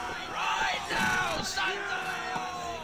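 A soldier in Mount and Blade yells in battle, giving rising and falling shouts with other combat voices around them at middling distance.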